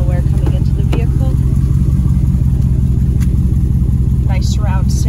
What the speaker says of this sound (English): You can hear that nice exhaust back there.